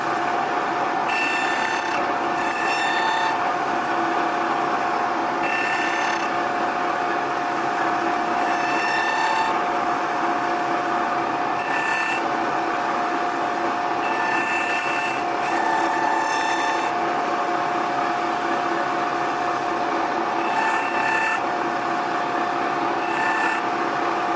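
Knife blade being ground at a cutlery factory to remove heavy grind scratches, a steady mechanical hum with repeated bursts of higher scraping as the blade is pressed and lifted, no talking.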